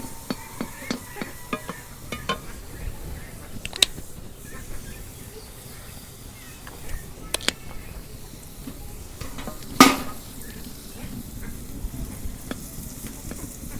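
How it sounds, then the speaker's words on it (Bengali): Greens with green chilies and onion fry in mustard oil, a soft steady sizzle with occasional stirring clatters and one sharper scrape near the middle, close and fairly quiet with no talking. "তেল গরম হচ্ছে, এখন আমি শাকগুলো ভালো করে ভাইজে নেই।"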